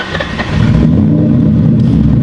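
A restored Ford Mustang engine fires up nearby and settles into a loud, steady, deep rumbling idle, with no talk over it.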